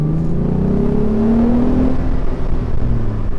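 A 2015 Morgan Roadster's 3.7-litre V6 revs loudly and close, its rising engine note climbing steadily before easing back to a lower drone, with no voices over it.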